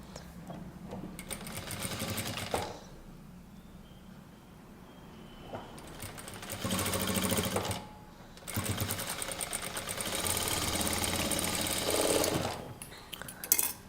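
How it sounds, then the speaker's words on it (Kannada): A sewing machine stitches the neckline of a kurta, running in several bursts of steady whirring separated by short pauses, fairly close and clear. "ಜಸ್ಟ್ ಫಸ್ಟು ನೆಕ್ ಲೈನ್ ಮಾತ್ರ ಸ್ಟಿಚ್ ಮಾಡಿ ಶೋಲ್ಡರ್ಸ್ಗೆ ಅಟ್ಯಾಚ್ ಮಾಡಬೇಕು"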